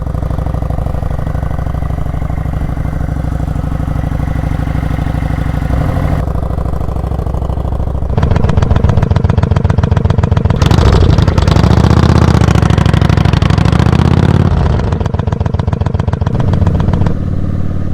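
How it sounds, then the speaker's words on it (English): A 2009 Kawasaki Vulcan 900 motorcycle idling close up, a steady low engine rumble that grows louder and clattery partway through, then settles back, with no talking. "so this is the Vulcan 900 I'll be riding on."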